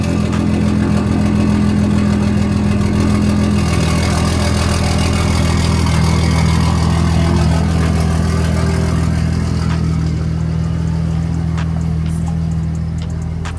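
A BMW B58 engine fitted with a catless downpipe runs loud and close, a steady deep idle drone with a slight rev rise partway through, then settling back to a constant rumble.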